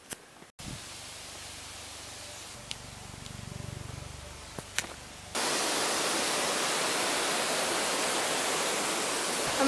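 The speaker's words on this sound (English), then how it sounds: "So, forward is the waterfall." Along a forest path in Hawaii, handling noise and low rumble give way to a sudden, steady broadband roar like a waterfall, loud and constant.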